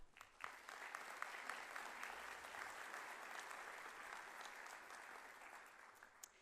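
Applause at a university school of nursing convocation ceremony, a steady, even roar of many hands clapping across a large hall that holds for several seconds, with a few sharper claps standing out near the end.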